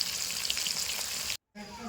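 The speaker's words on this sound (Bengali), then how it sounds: "তো মাছগুলো আমি খুব সুন্দর করে ভেজে নেবো।" Rohu fish pieces frying in hot oil give a steady close sizzle with bright crackle, a brief break of silence, then the sizzle resumes.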